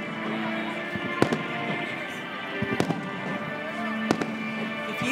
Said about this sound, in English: If you don't have fireworks where you're at, I just wanted you to see these.